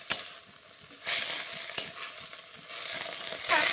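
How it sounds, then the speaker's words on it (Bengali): Moringa (sojne) greens, seasoned with salt and a little sugar, are stirred in a sizzling wok: a close steady frying hiss punctuated by sharp clinks and scrapes of the spatula against the metal. "দিয়ে ভালো করে নাড়িয়ে নেব।"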